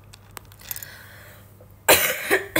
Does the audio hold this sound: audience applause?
no